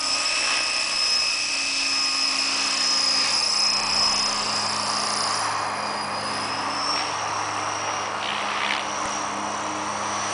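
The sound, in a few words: Flasher 600E RC model helicopter with Phoenixtech motor flying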